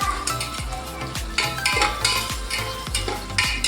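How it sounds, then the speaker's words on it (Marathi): Onion and tomato sauté in a pan with a loud sizzle, while a spoon scrapes and knocks against the pan in a steady rhythm of sharp strikes, close up with no voices. "मस्त लाल टोमॅटो घ्यायचा आपल्याला आणि छान परत परतून घ्यायचं"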